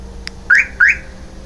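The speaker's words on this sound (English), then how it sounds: "I installed the car alarm system and here it is." An aftermarket car alarm on a BMW 3 Series gives two short rising electronic chirps in quick succession, loud and close, with a faint earlier blip and low background hum.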